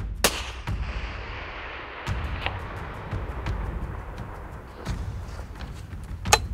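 Rifle shots ring out during an African plains game hunt, several sharp cracks scattered over an outdoor wind-like background.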